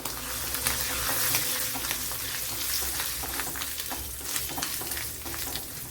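Small coconut pieces fry in oil in a pan for a Kerala drumstick masala. The crackling sizzle is dense and close, with spoon scrapes throughout and no talking.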